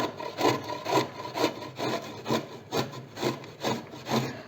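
Peeled mango is grated on a hand grater in about nine even, rhythmic rasping strokes, close and moderately loud, with no talk.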